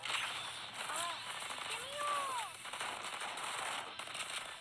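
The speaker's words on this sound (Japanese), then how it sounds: "撃ってる。" Gunfire rattles in the Blue Archive game during a combat tutorial, short bursts of shots running throughout under game music with chirpy effects and a voice speaking over it.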